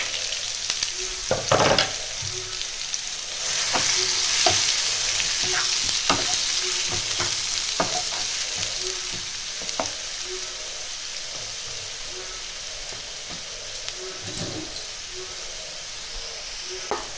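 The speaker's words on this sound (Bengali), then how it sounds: "আমি পেঁয়াজটা বেশি ভাজবো না, হালকা করেই ভাজবো।" Chopped onions fry lightly in a pan for pav bhaji, with a constant sizzle, repeated stirring scrapes and sharp spoon knocks against the pan, close up.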